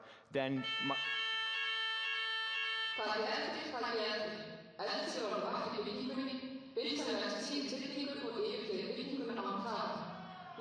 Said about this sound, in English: yeah, that was the fire alarm